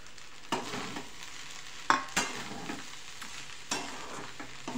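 Spatula stirring and tossing egg fried rice in a hot pan, a few distinct scraping strokes over a soft background sizzle, fairly close and quiet with no talking.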